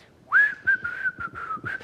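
A person whistles a casual, wavering tune close by, a short series of clear sustained notes with small breaks between them.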